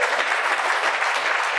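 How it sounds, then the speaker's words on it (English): An audience at a Hamilton neighbourhood conversation event with the mayor breaks into steady, fairly distant applause, a continuous wash of clapping with no voices over it. "I didn't think that would be an applause line"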